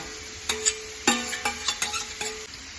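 Fish frying in a little oil in a non-stick pan gives a soft sizzle, broken by a few sharp spatula clinks and scrapes, close by and alone.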